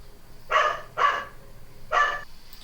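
A dog gives three sharp, fairly close barks, two quick ones and then a third after a short gap, over a quiet indoor background.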